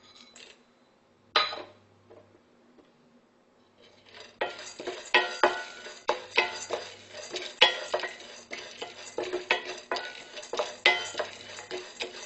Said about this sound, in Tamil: நம்ம வந்து வெந்தயம் கடுகும் வறுத்துடலாம்